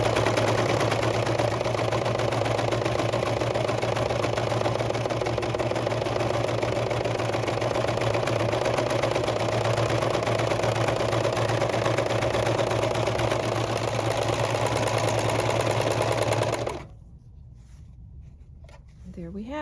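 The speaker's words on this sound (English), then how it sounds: "just going a little slower on the serger than normal as I go around that curve" A serger stitches slowly around a convex curve with a continuous even motor hum and rapid stitching buzz, steady for most of the clip before stopping abruptly near the end.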